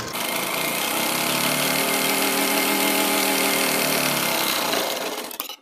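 A sewing machine runs a continuous stitch along a shirt collar's piping edge, a steady close whirring hum with a buzzing mechanical tone that holds evenly, then cuts off near the end.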